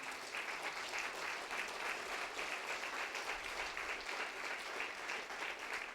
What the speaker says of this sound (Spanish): Podemos dar un fuerte aplauso a Jesús.